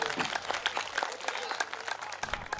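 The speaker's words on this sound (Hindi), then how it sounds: "ताली बजाओ आप जोरदार राजेश लोटपोट।" Audience applause for a rising stage comedian-poet at a Hindi kavi sammelan, a steady patter of clapping with crowd noise and some voices mixed in, moderately loud and continuous throughout.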